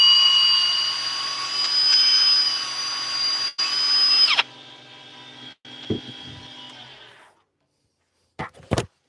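A power drill whirs steadily at close range for several seconds, cuts out, spins up again at a lower pitch, then winds down, followed by a couple of short knocks after a pause.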